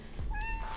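Minecraft cat meowing up in a tree: one clear, rising then level meow, fairly close and alone over a soft background hum.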